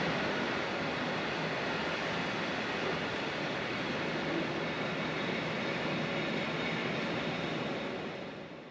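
A train passes through a Swedish railway station, heard as a steady, broad rushing roar that holds loud for several seconds and then begins to fade at the end, with no voices.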